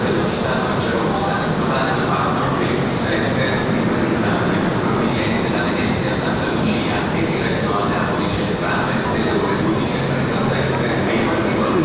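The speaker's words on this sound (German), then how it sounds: "Und der Frecchia Rossa fährt jetzt ab." A Frecciarossa high-speed train departs a station in Italy, its dense, steady roar of wheels and rolling cars filling the scene nearby, with a brief voice surfacing over the rumble.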